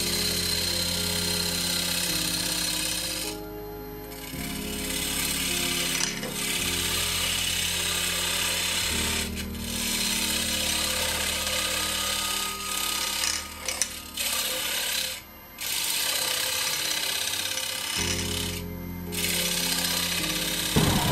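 A skew chisel cuts a wooden bowl spinning on a lathe, producing a continuous loud rough scraping and humming drone with brief pauses and tone shifts as the cut changes.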